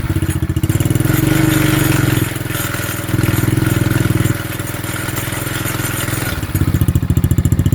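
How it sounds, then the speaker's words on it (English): An Xpro 110cc quad bike engine revs hard, then drops back and surges again in loud, close, buzzy bursts with a rapid pulsing throb and no talk over it. "we're going to let Eli rev it a little bit, see what happens here"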